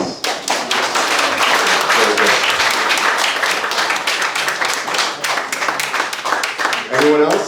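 Wedding guests applauding after a touching toast, dense rapid clapping from a close crowd that carries on for several seconds, with a voice rising at the end.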